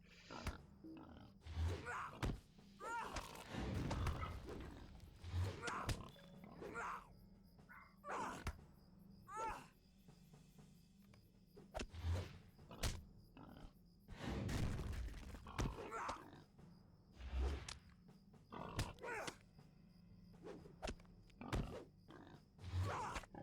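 Low, rough grunts from a diseased boar in the video game Lord of the Rings Online recur throughout alongside game sound effects, thuds and whooshes, with a steady mid-level bed of noise.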